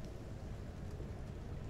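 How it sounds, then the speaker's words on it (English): Steady rain falls in the video game Tacoma, a continuous dense hiss of drops with a low rumble underneath, even and unbroken with no voices. "I'll leave the rain sounds on."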